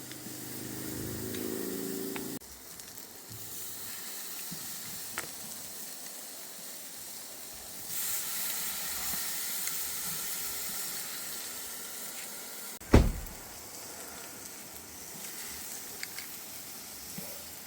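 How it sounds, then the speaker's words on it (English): Steaks sizzling on an Ozpig Big Pig wood-fired grill, a soft, steady hiss and crackle that runs throughout at low volume, with a few brief knocks and one sharp clunk partway through. "Righto, time for the steaks to go on."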